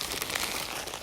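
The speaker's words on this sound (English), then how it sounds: "crumpling them up" Paper being crumpled into balls by hand, a steady, close crinkling rustle that runs continuously without talk.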